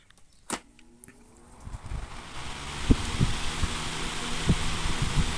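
After a switch click, an electric fan fitted with a new bearing spins up outdoors into a steady, rising whoosh of moving air, punctuated by faint low thumps and no talking.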